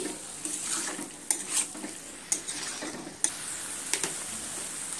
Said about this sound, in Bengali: এইভাবে আমি মিনিট 3 সময় নিয়ে কষিয়ে নিচ্ছি।